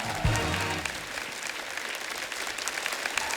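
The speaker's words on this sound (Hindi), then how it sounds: "एक बार खुल के तालियां हो जाए हमारे मेहमानों के" A studio audience breaks into applause for guests on a comedy show, a thump at the start then even, moderately loud clapping that carries on without speech.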